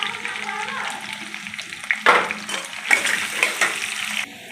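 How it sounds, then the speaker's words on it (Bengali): Chunks of potato fry in oil in a wok, a close crackling sizzle that swells in bursts as they are stirred. "আলুগুলো ভেজে নেব।"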